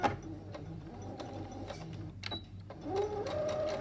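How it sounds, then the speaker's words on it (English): A sewing machine stitches in short bursts of rapid mechanical whirring, close by, with brief pauses between runs. "set your sewing machine to the normal stitch and start stitching."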